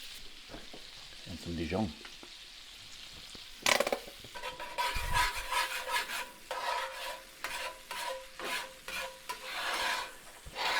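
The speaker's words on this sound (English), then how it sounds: "Just gonna help deglaze this a little bit." Pork chops in a pan being deglazed with garlic, red pepper flakes and Dijon, giving steady sizzling and frying with stirring and scraping, and a brief spoken remark under the cooking noise.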